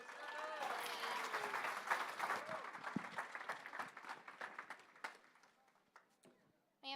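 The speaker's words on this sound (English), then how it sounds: "Can you all give Sheldon a huge round of applause?" Audience applause swells at a formal FFA gala, dense clapping mixed with a few cheers and whoops that thins out and tapers off before a voice starts at the end.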